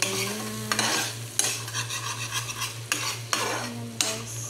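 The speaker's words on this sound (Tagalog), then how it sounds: "haluin natin yan" Chicken being stirred in a hot pan, with utensils scraping and clinking against the metal in repeated strokes over a steady sizzle of frying, close and fairly loud.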